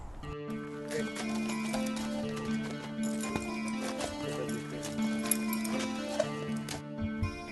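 Horses pull an old-fashioned horse-drawn caravan, their hooves clopping steadily at a walking pace under sustained background music.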